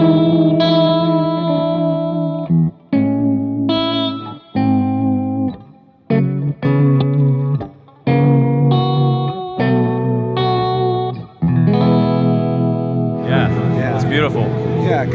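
An electric guitar runs through a J Rockett Tranquilizer vibe pedal with the speed turned up, playing sustained chords and phrases with a wobbling, swirling modulation, loud and close, with a brief burst of noisy strumming at the end.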